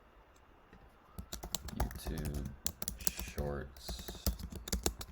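Rapid clicking of a computer keyboard, with bursts of keystrokes running through the whole stretch and a voice talking over the typing in places.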